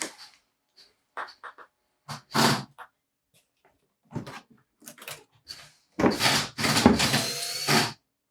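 The top lid of a Wurlitzer Model 200 electric piano is unlatched and lifted: scattered clicks and knocks, then a burst of loud scraping and thudding wood and metal handling noises near the end, close and dry, with no talk.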